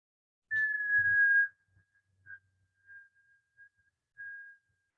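A long steady whistle on one breath, then several short fading whistles, soft breathy puffs between them, close and quiet.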